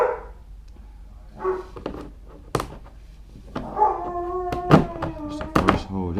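Dogs howl in drawn-out, wavering wails that build toward the end, mixed with a sharp knock or two, fairly close by in a quiet space during work installing a USB port on a Seaghost 110.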